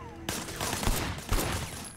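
Rapid bursts of gunfire at a Sleeping Dogs shooting range, loud and dense, with sharp cracks and echoes overlapping for the length of the clip.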